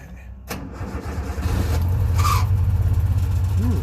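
A two-stroke Subaru 360 van engine cranks briefly and then catches, settling into a rough, loud running burble close by, with the choke pulled out all the way.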